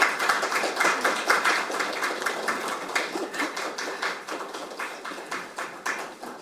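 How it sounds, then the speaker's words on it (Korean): A group applauds together during a posed photo shoot at an AI data center power supply forum, a steady dense patter of many hands clapping nearby for several seconds. "그리고 자연스럽게 박수 치면서 한 컷 더 찍겠습니다."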